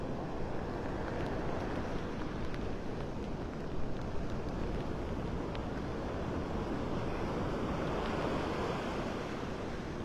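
Surf pounds the shore at Vanderbilt Beach in North Naples, Florida, during Tropical Storm Debby at high tide, a loud, unbroken roar of waves mixed with gusting wind buffeting the microphone.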